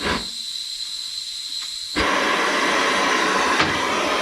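Gunk aerosol cleaner sprayed onto a 1981 Monte Carlo driver side floor, two close hissing bursts, the second longer and louder, with a brief pause between.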